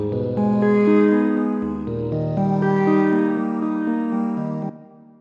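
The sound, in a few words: vocal sample played as a synth instrument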